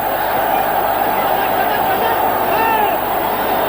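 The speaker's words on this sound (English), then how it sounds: "The crowd giving him a hard time." A cricket stadium crowd jeers Ganguly during an India versus Australia match in 2001, a broad, continuous roar of massed voices rolling on steadily with a commentator speaking over it.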